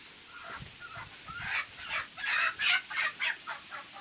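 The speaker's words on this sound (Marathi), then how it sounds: "इथे बबलू थांबलेला आहे कारण ती कोंबडी जी आहे ती बोचते." A hen clucks in a string of sharp, rhythmic calls growing louder and closer, with no talk over it.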